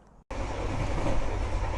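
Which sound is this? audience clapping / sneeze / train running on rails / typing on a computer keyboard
train running on rails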